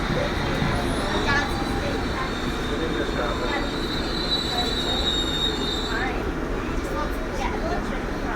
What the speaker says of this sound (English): First we have to let this train go through first.